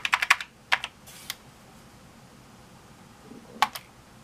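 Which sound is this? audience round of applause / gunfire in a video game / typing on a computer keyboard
typing on a computer keyboard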